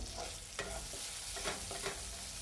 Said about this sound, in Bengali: এবার টমেটোটাকে তেলের মধ্যে এক মিনিট একটু ভাজা ভাজা করে নেব